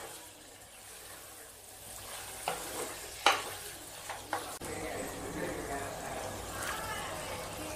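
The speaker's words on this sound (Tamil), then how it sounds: "இப்போ இத சேக்கறேன் மசாலா கூடவே ஒரு 2 நிமிஷம் நல்லா வதக்கி விடுங்க" Prawns are being sautéed with masala in a pan for prawn kulambu. There is a soft sizzle with a few sharp stirring knocks against the pan, and a voice talks over the cooking.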